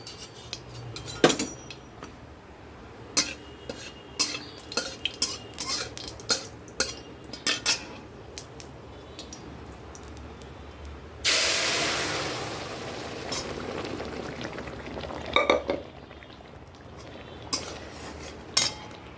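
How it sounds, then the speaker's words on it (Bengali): Mustard seeds and dried chillies tempering in hot oil for a sour dal, with a sudden loud sizzling burst partway through, set among sharp clinks and scrapes of utensils against pots. "এখানে একটু সর্ষে আর শুকনো লঙ্কা ফোড়ন দিলাম টক ডাল করছি"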